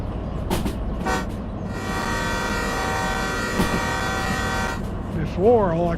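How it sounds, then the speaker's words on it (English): Locomotive horn in a train simulator game, a long sustained multi-chime blast near and loud after a couple of short toots, with someone talking over parts of it. "Now I got the 6-engine honker up here, the honker upper here."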